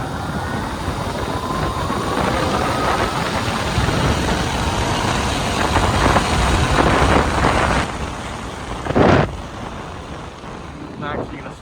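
Talaria X3 supermoto ridden off road on a trail, its motor whine running steadily under loud wind buffeting on the microphone, with a brief louder gust near the end.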